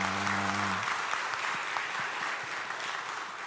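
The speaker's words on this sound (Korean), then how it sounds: "우리 하나님께 영광의 박수를 올려드리겠습니다" A crowd in a church breaks into warm, sustained applause during an ordination service as a held organ-like tone fades out, the clapping continuing steadily to the end.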